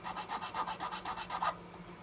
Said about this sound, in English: So I'm just going to give it a little bit of a sand up here.